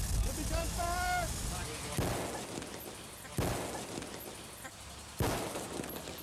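Three sharp, loud gunshot bangs on a film set, spaced about a second and a half apart, each with a rumbling tail, after a voice speaks.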